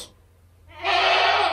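A goat gives one loud, close, sustained bleat with a strained, hoarse quality, heard alone and outdoors.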